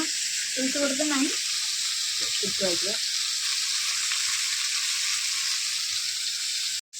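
Kokoli fish frying with a loud, continuous sizzle of hot oil, while a voice speaks briefly at the start.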